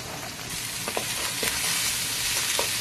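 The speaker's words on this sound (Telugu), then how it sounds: "బీన్స్ కొంచెం తొందరగా ఉడకదు కదండి, అందుకని ఫస్ట్ బీన్స్ వేసుకుంటున్నాను" Thinly cut salted green beans frying in a pan for vegetable fried rice, a dense continuous sizzle up close with a few soft stirring knocks.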